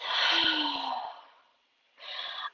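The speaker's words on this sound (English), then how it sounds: "Deep breath." A deep breath taken during a calm tapping exercise: a long, close airy inhale that fades out, a brief pause of near silence, then a shorter breathy exhale or second breath, soft and intimate with no speech.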